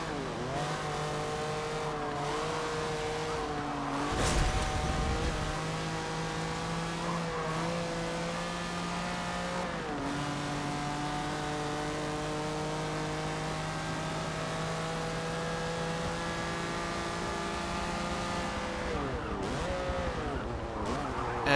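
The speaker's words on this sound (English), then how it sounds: "this engine sound sounds so aggressive for this vehicle" A car's engine revving hard in Forza Motorsport 7, sustained loud drone rising and falling through repeated gear shifts with brief tire squeals, steady and close throughout.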